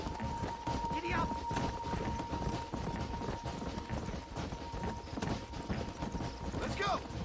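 Horse hooves gallop in a steady, continuous clip-clop in the Red Dead Redemption video game, loud and close under a dense bed of game noise and music, with brief shouted voices and effects.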